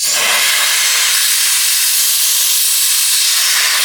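A compressed-air blower hisses loud and steady, a continuous close blast used to dry a fuel injector wiring plug on a 2000 Land Rover Discovery engine.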